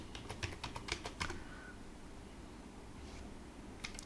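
Quick bursts of computer keyboard typing Cisco CLI commands, close and quiet, a cluster of key taps, a pause, then a few more clicks near the end.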